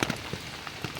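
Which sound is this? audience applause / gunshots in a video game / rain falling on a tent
rain falling on a tent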